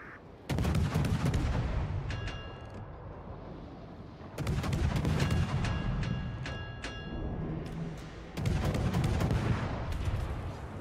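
Warship guns in a naval video game fire three heavy, loud booming salvos a few seconds apart, each one rumbling and echoing away before the next.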